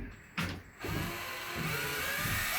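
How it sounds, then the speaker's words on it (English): Drill boring out a 3-inch pipe before threads are tapped: a short mechanical burst, then a sustained grinding whir that runs steadily to the end. "So we're gonna drill it out and then run a tap."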